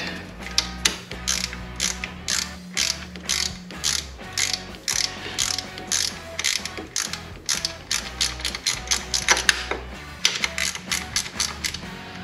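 Ratchet wrench cranking a 10mm bolt on a Ford Coyote engine in a Fox body restomod, loud close rapid clicking in repeated bursts with brief pauses between strokes.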